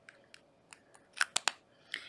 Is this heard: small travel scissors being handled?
yes